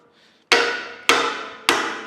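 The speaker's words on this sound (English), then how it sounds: "Got a lead hammer here." A lead hammer strikes the seized nuts on a large cane mill being restored, three loud, sharp metallic blows spaced about half a second apart, each ringing briefly before fading.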